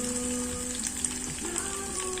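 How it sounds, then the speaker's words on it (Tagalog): Garlic and onion sauté in a hot pan, giving a steady close sizzle and crackle with a few faint stirring scrapes and no talking. "Gigisahin natin ang bawang guys."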